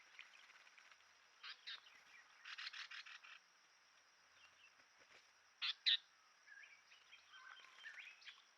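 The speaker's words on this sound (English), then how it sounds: "Again, tailor bird." Tailorbird calling at a rocky pool in Huai Khayeng Nature Park, Thailand: a few clusters of sharp, repeated chirps, moderately distant, over a steady insect hum.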